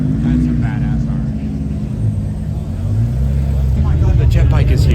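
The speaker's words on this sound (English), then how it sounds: "A jet turbine bike." Jet turbine bike at a car meet, a loud, close roaring rumble that swells near the end while people talk over it.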